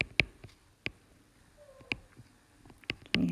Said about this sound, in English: Can you hear that little meow?